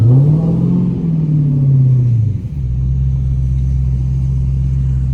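A Hellcat car's engine revs and rumbles as the car pulls away, with a deep note that rises and falls before settling into a steady low drone, loud and close.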